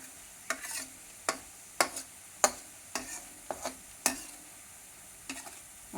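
Boondi batter dropped into hot oil for a boondi mixture, a fairly quiet steady sizzle punctuated by about a dozen sharp clattering taps of a ladle at irregular intervals.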